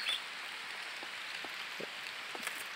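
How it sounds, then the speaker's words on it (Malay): Heavy rain hisses steadily and fairly softly outdoors at a fishing spot, a dense wash with a few distinct drops pattering nearby. No one speaks. "Hujan turun kawan-kawan. Hujan lebat lah tu ha."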